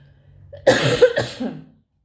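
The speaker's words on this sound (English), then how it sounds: "Needed to deal with that cough." A single person coughs twice in quick succession, close and clear against near silence, with a throat-clearing quality.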